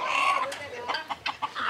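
Chickens clucking on a poultry farm, a run of short, fairly close clucks and calls in an irregular rhythm over a steady background hum.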